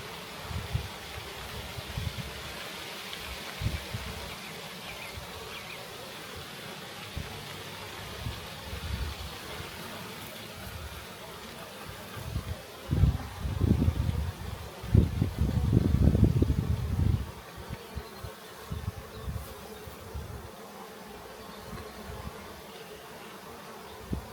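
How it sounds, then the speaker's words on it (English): Honey bees drone around a hive in an apiary as foragers fly back in, a continuous buzzing hum that swells louder for a few seconds as bees pass close, then settles back, with no speech. "We're watching the bees come home."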